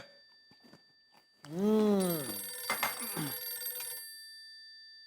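An electronic phone ring sounds once, bright and warbling, then fades out, following a few faint noises in an otherwise quiet room.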